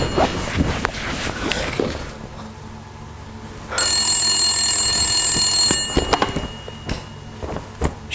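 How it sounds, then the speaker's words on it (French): A telephone rings indoors in a French dark-comedy film scene: a steady electronic ringing tone holds for about two seconds, loud and close, between stretches of shuffling, footsteps and small handling noises. "Il y a un bruit de téléphone."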